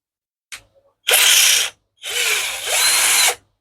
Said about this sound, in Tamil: இது ஒரு ஃப்ளைவுட்டில் உங்களுக்கு எப்படி ஹோல்ஸ் போடுறது அப்படியே காட்டுறேன்.